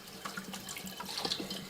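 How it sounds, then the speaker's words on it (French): Water runs steadily from a faucet fed by a hose from two drums mounted up high in an alpine mountain chalet, a continuous close splashing stream with no talk over it. "Et vous avez le robinet."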